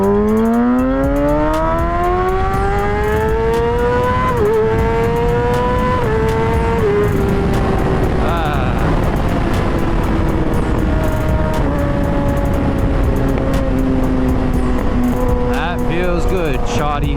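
A Kawasaki ZX6R motorcycle rides through Florida traffic with its engine loud and close, revving up in rising whines and dropping at each shift, over steady road and wind roar.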